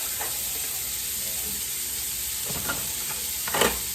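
Onions sautéing in a hot pan for potato soup, a constant close sizzle with a few scraping stirs toward the end, no voices.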